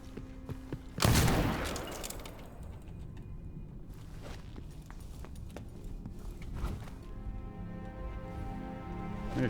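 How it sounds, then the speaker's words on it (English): Gunshots in the video game Dishonored 2 ring out: one loud, sharp blast early, followed by scattered fainter shots and impacts over ambient game noise, without speech. "I'm just shooting them in the head now"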